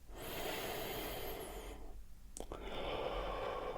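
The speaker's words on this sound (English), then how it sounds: "That's good, good breathing." Slow, airy breaths, one long exhale fading out, a short pause, then another drawn-out breath, soft and close over a low steady hum.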